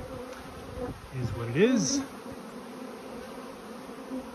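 Bees buzz in a beehive yard after hives have been shaken out, with a steady hum throughout and one bee passing close with a rising and falling drone, heard under a brief spoken phrase.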